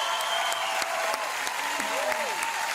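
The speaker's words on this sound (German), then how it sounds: "nochmal einen richtig grossen Applaus" Audience applause fills a Eurovision Song Contest 2018 Swiss selection show, a steady broadband wash of clapping with crowd noise, while a host's voice and music tones sit faintly underneath.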